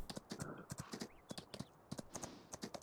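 Horse hooves clip-clop in Farming Simulator 19, a steady run of sharp, evenly spaced taps at moderate loudness with a faint background voice.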